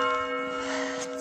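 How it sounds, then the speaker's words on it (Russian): A church bell rings in the morning, a sustained resonant tone hanging steadily in the air with a faint hum of street ambience beneath. "Колокол звонит каждое утро."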